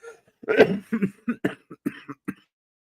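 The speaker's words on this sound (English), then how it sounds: "Oh my God, you gotta make me cough." A run of harsh coughs, close and fairly loud, coming in quick bursts that grow shorter and fainter toward the end.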